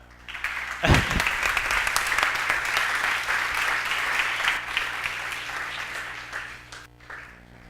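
Audience at a talk on nonverbal communication breaking into strong applause, a sharp start followed by a sustained, even wash of clapping that holds loud throughout.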